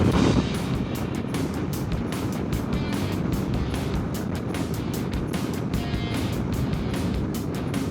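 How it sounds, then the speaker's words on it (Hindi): A strong headwind roars against a KTM 390 Adventure motorcycle riding through Ladakh on the Hanle to Manali route, a loud, constant buffeting rush of wind noise over the engine's drone. "हवा बहुत स्ट्रॉन्ग है ना सामने से।"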